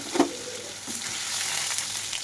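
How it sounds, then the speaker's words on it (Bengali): Close, steady sizzle of paneer frying in hot oil with turmeric, with a couple of soft clinks early on and no talking. "এখন কড়াইয়ে তেলের মধ্যে দিয়ে একটু হলুদ দিয়ে ভালো করে একটু ভাজা ভাজা করে নিচ্ছি"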